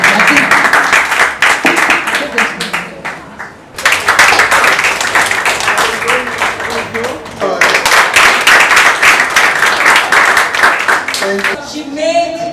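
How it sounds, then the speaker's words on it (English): An audience at a Lions club literacy day event claps for award winners in dense, sustained applause. The clapping briefly drops away twice before swelling again, with a voice speaking near the end. "Please clap for them."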